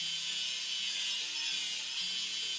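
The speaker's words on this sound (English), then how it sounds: "Let's grind the welding seam." Grinding on a welding seam of a toy container car in a railway construction vehicle game, a steady buzzing, rasping whir with shifting tones, close and loud throughout, then cutting off abruptly at the end.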